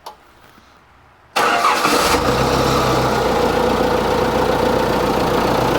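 Case 1845 skid steer diesel engine starts abruptly after near silence, then runs loud and steady at a constant throttled-up drone without rising in pitch.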